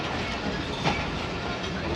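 Passenger train ride on the flood-route run from Faisalabad to Lahore behind a ZCU 20 locomotive, with steady rumbling rail noise inside the carriage and a brief clack near the middle.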